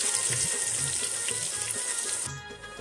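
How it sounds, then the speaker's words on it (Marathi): Finely chopped onion frying with ginger garlic paste for an Agri-style mutton rassa, a steady close sizzle with faint stirring underneath that drops off sharply near the end. "त्याच्यानंतर त्यात आपण बारीक चिरेला कांदा घालून घेऊ. कांदा पण चांगला मऊ होऊपर्यंत शिजवून घेऊ."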